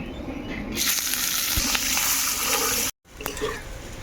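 Chopped onions sizzling in hot oil with whole cumin, bay leaf and dried chili, a steady bright frying hiss with stirring scrapes, briefly cut off near the end before resuming.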